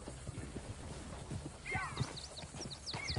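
Horse hooves clip-clop at a steady walking pace in a video game, with a short whinny and a faint voice near the end.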